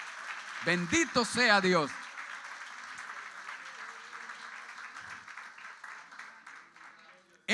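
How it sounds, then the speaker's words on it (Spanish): Applause from a church congregation after a sermon, a steady broad wash of clapping continuing under and after a short spoken phrase at the start. "Un aplauso al Rey."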